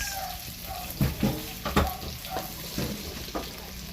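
Onions fry in butter in a pan with a soft, continuous sizzle, broken by several louder scraping stirs of a utensil. The sound is close and fairly quiet, with no speech.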